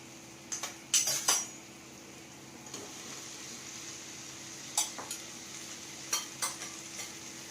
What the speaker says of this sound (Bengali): মশলাটাকে নেড়েচেড়ে কষিয়ে নেব